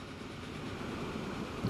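A coal train in the Transport Fever video game rolls along its rails as a steady, fairly loud rumble of wheels. The noise swells slightly near the end of the clip.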